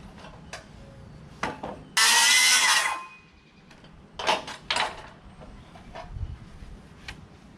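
Cedar deck joists being toe-screwed in place, with a loud burst of power-driver whir in the middle and scattered wooden knocks and clicks before and after, fairly close with no talk.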